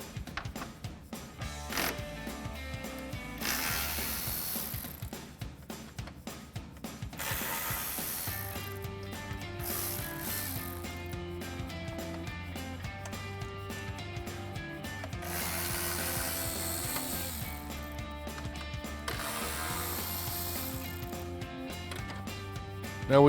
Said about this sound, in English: Our next step is going to be to remove these 4 10mm bolts that attach the grill to the core support.